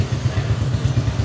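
A motorcycle carrying two riders hums along at a steady mid-pitched engine drone, close and fairly loud, with a low pulsing throb and no voices.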